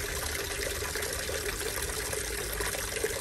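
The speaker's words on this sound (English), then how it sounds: "So we've got a nice big water feature there." Large garden water feature splashing and trickling on a sunny day, a dense continuous wash of running water close by, steady and unbroken with no voices.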